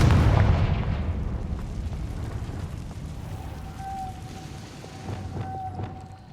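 The Confringo fire spell in Hogwarts Legacy bursts open with a heavy, booming explosion at the start. A long, rumbling decay follows, with faint tonal whines and crackles trailing off.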